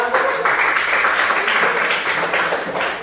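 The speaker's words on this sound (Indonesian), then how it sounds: "Tepuk tangan dulu semuanya." Students clapping together in a classroom at the end of a lesson, a steady, fairly close patter of applause mixed with a few voices.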